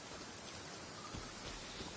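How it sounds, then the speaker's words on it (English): Steady rainfall in the Genshin Impact video game, a dense even hiss of falling rain with faint low rumbles, continuous and unbroken throughout. "obviously it's raining"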